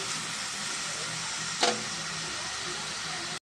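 Onions frying in oil in a pan while cooking chicken fry, a steady broadband sizzle holding throughout, with one brief louder crackle or stir in the middle.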